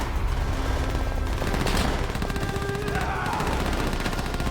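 Enemy machine gun fire in the World War II shooter Call of Duty: World at War, a loud, continuous rattle of rapid shots over battlefield noise with no pause.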